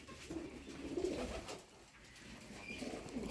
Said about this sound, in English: we also have pigeons here on the farm, so this is where we keep the pigeons